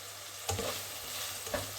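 Onion frying in a pan for a Spanish cuttlefish stew, a soft continuous sizzle with two brief stirring scrapes, close and fairly quiet.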